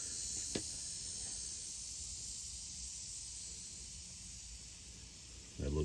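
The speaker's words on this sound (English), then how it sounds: "Spray to check for leaks." Aerosol leak-detection spray hissing steadily onto a freshly plugged car tire, a continuous close hiss lasting several seconds, with a brief click near the start and a short handling knock at the end.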